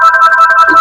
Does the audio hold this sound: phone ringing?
yes